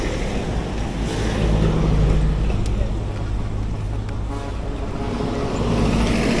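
Truck traffic on a climbing road during a long motorcycle ride from Alabang to Bicol, with a steady broadband engine and road rumble from passing vehicles and wind noise throughout.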